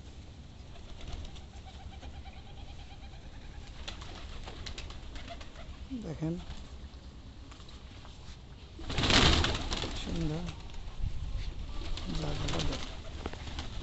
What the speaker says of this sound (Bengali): ছাদের উপরে এখন কবুতরগুলোর খাবার দেওয়া হয়েছে।